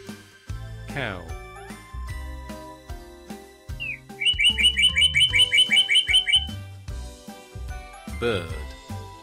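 A domestic bird chirps in a quick run of about a dozen evenly spaced bright tweets, with a couple of softer calls around it, all set over background music.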